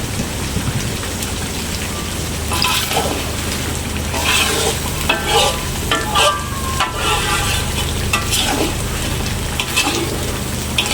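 Beef sizzling and frying in sambal while being stirred in a pan, a steady loud crackle with scraping stirs rising over it at intervals.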